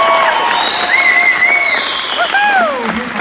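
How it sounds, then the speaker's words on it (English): A political rally crowd applauds and cheers loudly, with shrill whistles sliding up and down above the steady roar of clapping and shouting. "applaud Greg, please."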